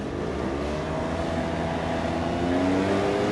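Steady road traffic rumbles along, cars driving close by in a continuous low hum with a faint engine whine rising over it, no voices.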